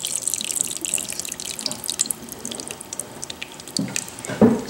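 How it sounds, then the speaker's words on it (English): Curdled milk poured through a strainer into a bowl, a steady thin trickle and splatter of liquid with a few heavier drips and clunks near the end, close and quiet. "Now we're going to pour it in the strainer to separate the clumps from the milk."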